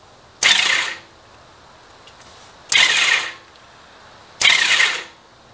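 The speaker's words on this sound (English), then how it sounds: "It spun the starter, but it didn't sound like it spun the engine." The starter motor of a hydrolocked Honda Valkyrie motorcycle spins three times in short separate whirring bursts of about half a second each. It is close and fairly loud, with quiet gaps between, and the engine does not fire.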